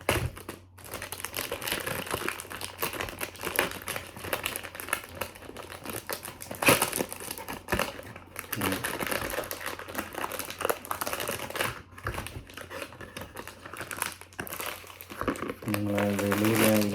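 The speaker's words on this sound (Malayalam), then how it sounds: "അപ്പം ഞാനിത് അൺബോക്സ് ചെയ്യുവാണ്." Crinkling and crushing of packaging while a Baccarat Rouge 540 perfume box is unboxed, a steady run of close rustles, taps and crackles lasting throughout, with a brief tonal sound near the end.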